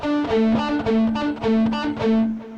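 Short, muted electric guitar notes chug in a quick repeating pattern, distorted and choppy, with a couple of brighter ringing notes between them.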